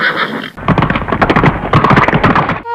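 A sacrificial horse from a royal yajna lets out a loud, close whinny and snorts over a dense, busy bed of hoofbeats and clatter lasting a couple of seconds, after a brief tonal musical opening.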